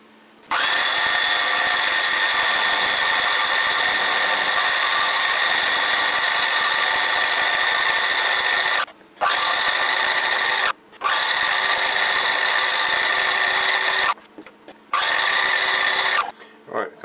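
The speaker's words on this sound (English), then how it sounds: "I've got a 6mm cutter set up now I'm going to mill that down to the scribe line by eye" A milling machine with a 6mm cutter mills metal down to a scribe line on a lever support bracket, a loud steady whine with harmonic ringing that runs long and then stops and restarts several times in short bursts.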